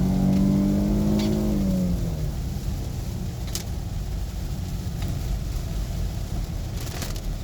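A 2019 Dodge Charger with a V6 engine and 8-speed automatic gearbox accelerates hard, its rising engine note climbing briefly at the start before fading into steady road and wind roar inside the cabin.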